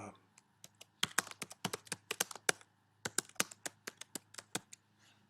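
Keystrokes on a computer keyboard while the title of an APA-formatted paper is entered, with bursts of quick, close clicks separated by short pauses and no talking.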